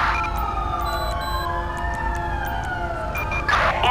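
Wailing ambulance siren in GTA 5, a rising and falling electronic tone sweeping steadily and fairly close, heard almost alone over a low rumble of traffic.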